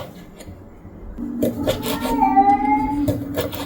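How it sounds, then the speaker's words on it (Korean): A pet cat meows in a home kitchen, a few faint drawn-out cries rising over quiet background noise and food being cooked, heard at a distance rather than close up. "저 소리가 들리실지 모르겠는데 율무가 우는 소리예요."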